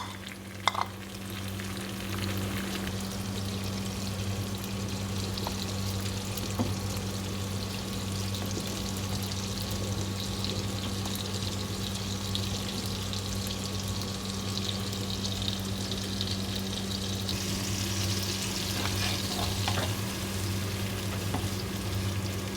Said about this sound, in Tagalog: Ilagay ko na yung pinagpakuluan ko ng meat.